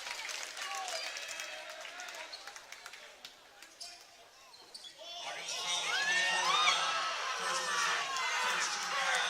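A boys' high school basketball crowd at a Hockinson versus R.A. Long league game reacts to a foul call. Scattered shouts and squeaks come first, then a louder swell of crowd noise, and a commentator talks over it.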